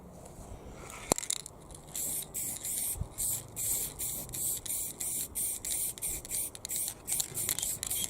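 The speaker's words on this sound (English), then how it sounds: "So we're spraying up." Spray paint can hissing in short repeated bursts while painting graffiti, several spurts of varying length, close and fairly loud, with a faint knock near the start.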